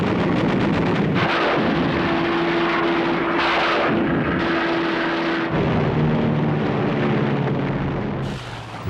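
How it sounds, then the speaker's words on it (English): American fighter planes strafing military targets and transport links over Japan in the Second World War: a loud, continuous roar of aircraft engines mixed with rumbling bursts and blasts, dense and close throughout. "American fighters now roamed freely over Japan, shooting up military targets and transport links at will."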